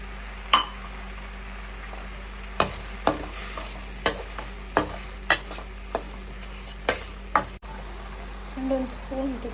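Grated carrots simmering in milk with sugar and cardamom in a pan, a soft bubbling sizzle broken by regular sharp clinks and scrapes of a spoon stirring against the vessel.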